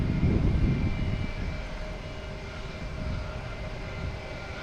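Airliner engine roar at Boston Logan Airport, a steady broad rumble that swells slightly at the start then holds level, moderately loud and fairly close, with no talk over it.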